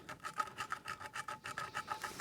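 Resin casting being wet-sanded with sanding sticks, a soft rhythmic rasping of short back-and-forth strokes, close and fairly quiet, with no voices.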